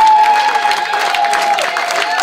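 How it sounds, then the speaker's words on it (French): At a mothers' meeting in an evangelical church, the congregation applauds loudly and continuously, with a held musical tone running underneath. "et nous allons applaudir"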